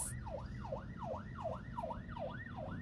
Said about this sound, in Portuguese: que Deus abençoe quem está lá dentro, né, da ambulância